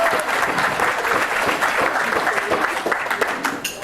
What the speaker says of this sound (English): So a round of applause to start.